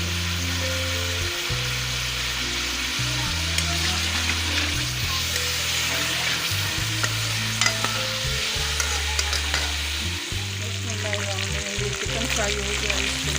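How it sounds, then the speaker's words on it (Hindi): Chicken for biryani fries in a pan with a loud, constant sizzle and occasional scrapes of stirring. A low humming drone runs underneath the whole time. "चिकन फ्राई हो गया, इसको मैं निकाल दूँगी।"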